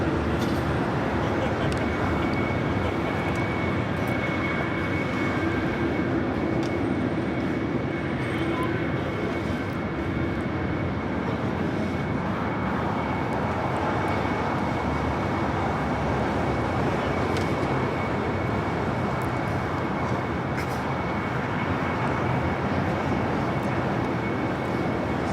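A Boeing 777 freighter at LAX spools up its engines in a steady, loud, broadband roar with a sustained whine that carries on throughout, heard from a distance with faint background noise.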